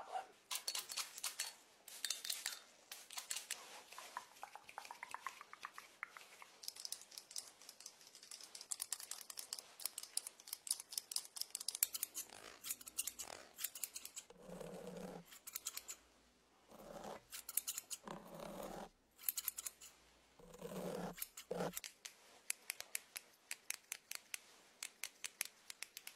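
Scissors snipping close up during a haircut, rapid crisp metallic clicks in long runs that break into separate spaced bursts later on, intimate and quiet with no talking.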